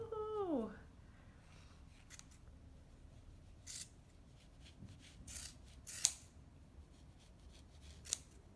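Scissors snip pom-pom trim in several separate, crisp cuts spread out at irregular intervals, fairly quiet against a soft background with a brief voice-like sweep at the start.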